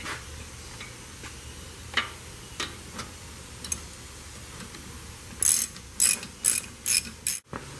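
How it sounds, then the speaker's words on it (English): A ratchet clicks while the brake caliper bolts on a Range Rover Sport are tightened, with sparse single clicks at first, then a close, loud burst of rapid ratcheting strokes near the end, no voices. "we'll just grab a ratchet and a wrench and we'll tighten those up"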